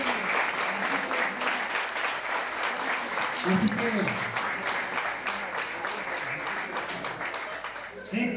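Live concert audience applauding a singer, a steady wash of clapping lasting throughout, with someone speaking over it briefly near the end.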